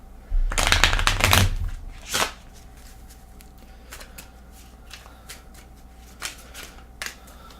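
Deck of game cards for a board game being shuffled, a loud riffling burst followed by a lighter riffle and then scattered soft clicks and taps of cards being squared and sorted, no talking.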